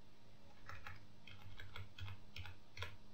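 Computer keyboard arrow keys are pressed in a string of light, quick taps, roughly a dozen irregularly spaced clicks, faint and close over a low steady hum, with no talk.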